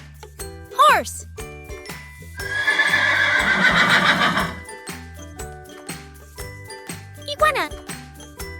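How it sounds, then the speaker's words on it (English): A horse whinnies twice in a loud, descending neigh, with clip-clop hoofbeats and a sustained bright jingle in between, all set against a steady musical backing. "Horse."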